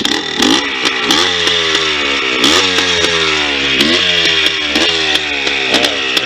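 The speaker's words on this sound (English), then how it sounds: "Sound of 2-stroke." A 2001 Yamaha Blaster two-stroke ATV engine runs close by, loud and raspy, with repeated sharp throttle blips and revs rising and falling over a buzzing idle.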